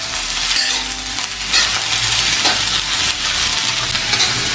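Capsicum stir-fried in a hot pan over medium flame, giving a steady broadband sizzle with scraping stir strokes, close and fairly loud throughout with no voices.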